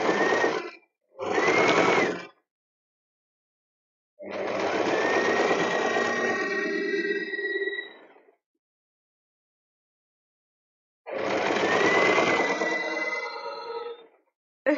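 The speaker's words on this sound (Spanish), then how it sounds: "A rematar y nosotros seguimos cosiendo." A sewing machine stitches a bear-shaped backpack in several bursts of rapid, steady mechanical whirring, from short runs to longer ones of a few seconds. Total silence falls between the bursts, and a brief click comes at the end.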